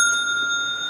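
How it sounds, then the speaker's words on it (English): A small bell struck once inside the old Rogers Mansion, ringing loud and close with a bright, pure sustained tone that slowly fades over about a second, no voices. "We got a little bell here."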